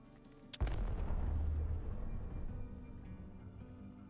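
Arc star grenade in the video game Apex Legends detonates with a sharp crack followed by a heavy booming blast that rumbles and fades over a few seconds, with no voices.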